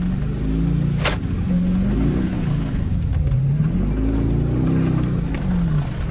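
A 2020 Mercedes G63 AMG engine works through mud and snow, revving up and down in repeated swells as the SUV slips and pushes on, loud and close throughout with a few brief clicks.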